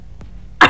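One short, sharp cough close up, preceded by a faint breath.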